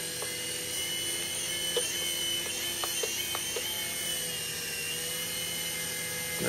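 A Titan T505 RC helicopter hovers indoors with a steady, loud high-pitched rotor and motor whine that holds constant throughout, with a few faint clicks underneath.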